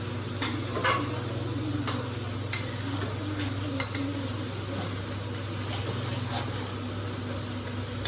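Meat being stirred and fried in a pot: a utensil scrapes and clanks against the metal at irregular intervals over a steady low frying hum.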